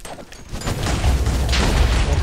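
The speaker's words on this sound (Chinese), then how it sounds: "那个爆炸，爆炸要来了" A muffled explosion in Minecraft, a low rolling boom that swells and holds with crackling rumble for about two seconds, without voices.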